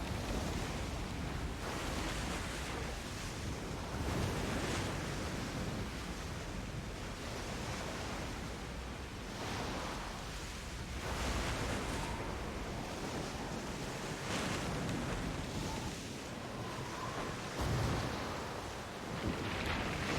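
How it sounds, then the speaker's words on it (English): Ocean waves, including rogue waves, churn in the Skull and Bones pirate ship game, a continuous loud roar of surf and wind with swelling crashes and no voices. "Okay, so there are still rogue waves."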